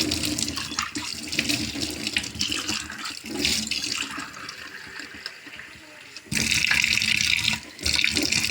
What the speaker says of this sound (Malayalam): അപ്പം എൻ്റെ കൊച്ചിൻ്റെ കുടിക്കാൻ വെള്ളം കൂടി എടുക്കട്ടെ